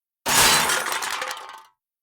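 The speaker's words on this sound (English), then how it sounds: "and crashing far too noisy sounds." Loud breaking and shattering crash of glass, a sudden burst that spills into scattered clinks and debris, then stops after about a second and a half.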